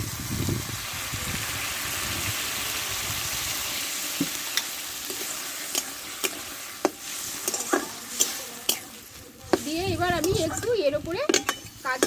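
Fish head and taro stems frying in a pan, a steady hiss of sizzling oil with scattered clinks of a spatula or spoon stirring against the pan, faint voice in the background.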